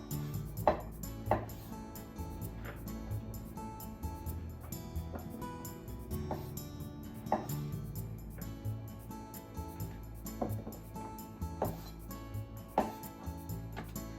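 Knife blade taps sharply against a cutting board while quartering shiitake mushrooms in a few irregular cuts, near and fairly quiet, with soft kitchen clatter between strokes.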